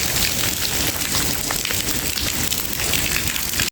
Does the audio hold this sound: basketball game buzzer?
no